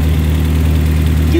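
A 1988 Toyota MR2 AW11 engine idles steadily at about 1100 rpm at close range, a constant low rumble with slight vibration and no other sounds over it.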